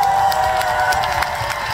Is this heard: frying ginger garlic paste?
no